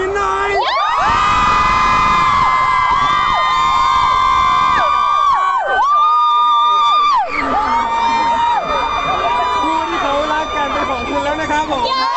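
A large crowd cheers and screams loudly and continuously, with high whoops and shouts rising over the din, voices mixed throughout.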